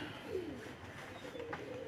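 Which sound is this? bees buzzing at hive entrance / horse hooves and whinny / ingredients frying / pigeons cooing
pigeons cooing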